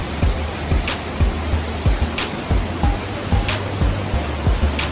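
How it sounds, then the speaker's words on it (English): Shower Falls in Baler, Philippines pours with a loud, constant roar of rushing water, broad and close, with faint periodic thumps underneath. "the power of the water coming from here, it's thunderous. I hope you can hear me okay, but the water is so loud."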